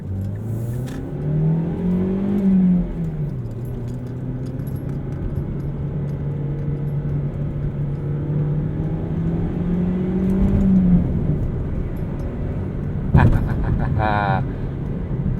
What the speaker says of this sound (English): I love the way this engine sounds too.